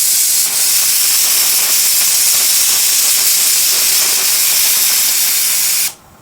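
A pressure cooker on a stovetop, cooking octopus with chili, gives a loud, steady steam hiss for about six seconds before cutting off abruptly.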